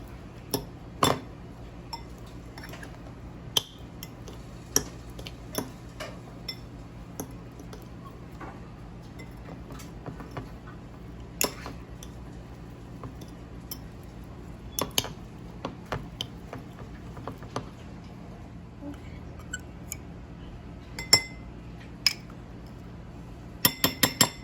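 A spoon stirs a chamoy gummy bear mixture in a bowl, sparse light clinks and taps against the sides over a low steady hum, fairly faint and close.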